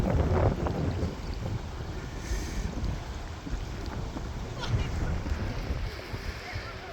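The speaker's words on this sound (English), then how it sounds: "Like, it's really windy" Steady wind gusts across the microphone at a Florida ocean beach where parasailers are out, a broad rushing roar with some splashy surf-like texture running the whole time.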